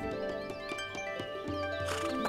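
A horse in an animated cartoon neighs and whinnies, with clip-clop hooves in a short, clear burst over a soft musical background.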